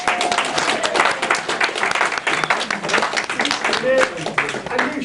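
Applause and cheering from a small audience at a book launch, lively clapping and calls layered under heavy overlapping talk throughout.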